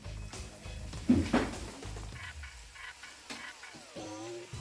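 Spaghetti stir-fried in a hot pan for an Indian stir-fry, a soft sizzle under scraping stirs that clatter in bursts, with a few clinks near the end.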